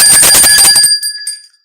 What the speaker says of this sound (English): And where's the bell? Where's the bell?